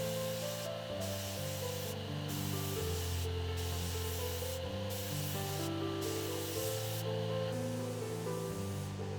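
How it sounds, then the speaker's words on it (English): Amber-tinted lacquer sprays onto a spruce acoustic guitar top as a steady, close hiss broken by short pauses and repeated passes, over a droning hum of shop equipment. "I'm going to give it a quote-unquote spray tan with some amber tinted lacquer"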